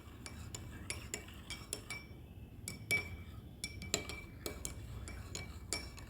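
A spoon clinks steadily against the inside of a cup or glass while golden milk is mixed, a quick run of bright metallic taps repeating close up over a soft background hum.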